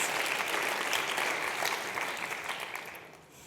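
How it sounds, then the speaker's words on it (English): A room full of people at a corporate presentation claps together, a dense, fairly quiet wash of applause that holds steady and then tapers off toward the end. "Let's give this whole room a round of applause."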